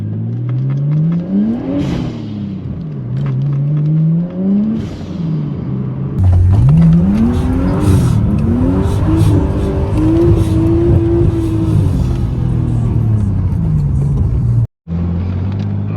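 A Nissan Skyline R33 with a turbocharged RB25 engine and an HKS air intake is driven. It revs and accelerates through several rising, falling gear pulls, with a throaty rumble and intake whoosh. Loud and close, cut by a brief dropout near the end.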